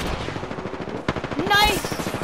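Rapid automatic gunfire in the battle royale game Apex Legends, with loud, close bursts of evenly spaced shots, a sharp crack partway through and a voice talking under the shooting.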